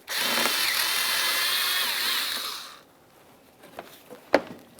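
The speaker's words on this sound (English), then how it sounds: "you can just remove this 7mm headed bolt and you'll have a lot more flexibility" A power drill or driver runs steadily for nearly three seconds, removing a 7mm headed bolt from the front grille area of a 2006-2012 Ford Fusion, then stops, followed by a few light metallic clicks and a sharp knock, close up.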